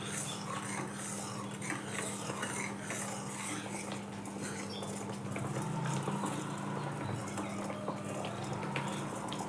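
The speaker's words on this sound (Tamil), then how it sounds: "இப்படி ஒரு அரை மணி நேரம் அடி பிடிக்காமல் கிளறவும்" Palmyra fruit juice with palm jaggery syrup and ghee being stirred in a pan, a steady run of scraping and clinking utensil sounds against the pot over a constant low hum.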